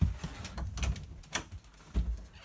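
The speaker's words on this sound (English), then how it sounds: "this door won't open all the way" A camper door that will not open fully is worked open, giving soft knocks and scraping thuds at close range, quiet and uneven in rhythm.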